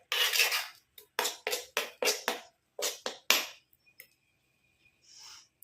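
A spoon stirring a mixture in a bowl, with rapid, loud scraping and clinking strokes in a steady burst, then a pause and a few faint taps.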